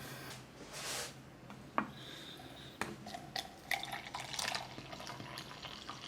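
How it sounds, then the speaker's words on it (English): Cold water poured into a cup for instant iced coffee, a faint trickling and splashing with a few small drips and clinks, quiet and close with no talk. "Now we just get cold water and pour it in the cup."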